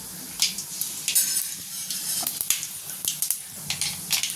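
Mustard seeds and urad dal frying in hot sesame oil for a Tamil mango pickle, giving a steady close sizzle with scattered sharp pops and crackles throughout.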